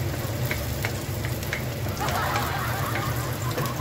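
Garlic and onion sauté in a pan for Bicol ginataang fried fish, giving a loud, dense sizzle with a swell of crackling stir noise partway through.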